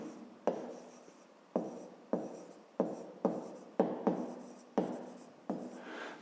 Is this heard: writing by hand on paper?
yes